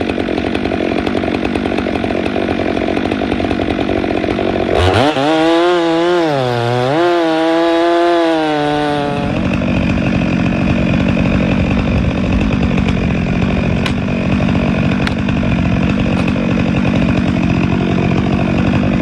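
A chainsaw cuts the end off a big white oak log, running steadily and loud for the whole stretch, with the engine pitch dipping and wavering during the cut before settling back to a high whine.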